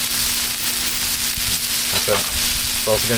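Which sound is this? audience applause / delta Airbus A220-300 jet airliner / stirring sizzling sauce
stirring sizzling sauce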